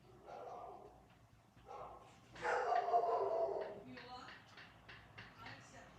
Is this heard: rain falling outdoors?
no